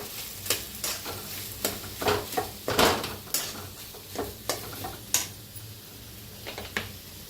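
A spoon stirs potato bhaji in a pan, scraping and clinking against the metal in about a dozen irregular strokes, with a faint sizzle underneath and no voices.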